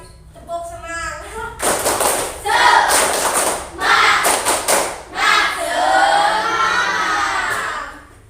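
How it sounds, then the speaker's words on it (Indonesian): Schoolchildren in an Indonesian classroom perform a rhythmic spirit clap chant, with bursts of clapping and shouted words in several loud, close phrases, broken by brief pauses. "Tepuk semangat lagi dong, sekali lagi. Tepuk semangat."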